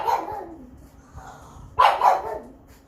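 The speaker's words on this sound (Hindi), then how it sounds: "बहुत भौंक रहा है" A dog barks nearby in a home during a chemistry lecture, a loud, short burst of several sharp barks with a pause between groups.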